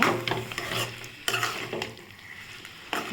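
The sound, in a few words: sautéing mango pachadi mixture with chili powder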